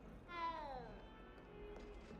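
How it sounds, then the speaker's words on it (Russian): A cat in the Hogwarts Legacy video game gives a single faint, falling meow, with a soft trailing tone after it. "О, там еще один кот лежит."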